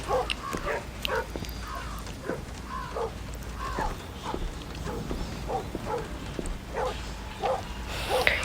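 A dog barks repeatedly inside the video game Metel, a series of short barks in an irregular rhythm, moderately loud over a low ambient game background.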